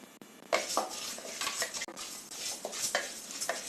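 Spoon stirring moong dal as it dry-roasts in a pan for Chettinad kummayam, a steady run of scraping, clattering strokes against the metal with a faint sizzle underneath, close and continuous, no voices.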